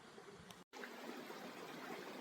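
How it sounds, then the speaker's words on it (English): Runoff water flows steadily across a field toward a river, a continuous rushing, trickling wash heard up close and without voices, broken by one very brief dropout. "So all the water runs out through here and eventually will run down into the Grey Wolf River"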